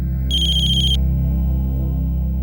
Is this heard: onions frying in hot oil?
no